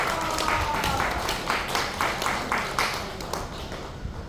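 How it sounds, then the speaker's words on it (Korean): Applause from a crowd at an outdoor car parade rally, a steady wash of clapping with rhythmic pulses heard at moderate distance, continuing evenly without pause. "자, 여러분 박수 한번 주세요."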